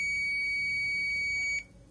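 A multimeter's continuity buzzer sounds as a probe touches a ground point on a computer motherboard during north bridge testing, a steady high-pitched tone held close and clear, then cutting off near the end.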